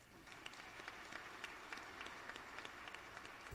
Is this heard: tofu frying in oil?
no